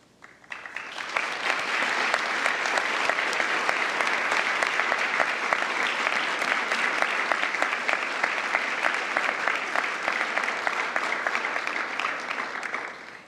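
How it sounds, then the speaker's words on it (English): A large audience claps at the International Women of Courage Award ceremony: loud, dense, steady applause that swells in within the first second and carries on evenly for about twelve more before easing slightly at the end. "Please, another round of applause."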